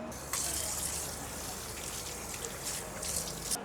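Water running from a tap as legs are washed before entering a busy temple in Malaysia, a steady close splashing flow with brief louder gushes.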